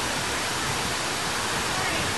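A small waterfall roars in a steady, dense rush of falling water, close and unbroken, filling the whole scene with no other clear sound.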